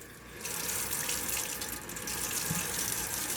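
Water streams steadily from a kitchen faucet into a sink, a continuous close hiss and splash that holds without a break.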